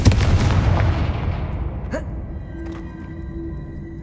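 A Confringo fire spell blasting in the Hogwarts Legacy video game, a loud booming burst that rumbles and decays over a few seconds, with a fainter second impact partway through.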